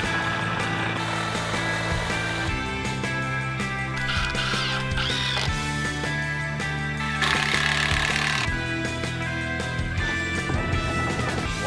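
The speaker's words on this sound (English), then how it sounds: "They're drilling from behind the wall." Drilling from behind a wall during construction of a large indoor koi pond, heard as a steady loud mechanical grinding and rattling that runs continuously with rising bursts, no voices.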